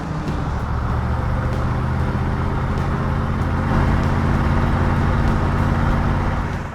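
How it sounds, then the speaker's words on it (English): An old 4x4 Jeep jalopy bought cheap on Craigslist cruises down the road, a steady drone of engine and road rumble heard from inside, with wind noise and no talking. "driving our adventure back to Los Angeles in a jalopy"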